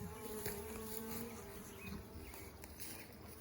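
Honey bees buzz steadily around an open hive during a one-week inspection, a dense, continuous hum with no voices over it.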